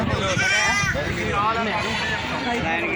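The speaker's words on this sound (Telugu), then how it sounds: "ప్రస్తుతానికి మేకలు గొర్రెల దాంట్లో ఉన్నాం" Several goats and sheep bleat repeatedly and loudly nearby at a large livestock market in Karimnagar district, their wavering calls overlapping amid a murmur of crowd chatter.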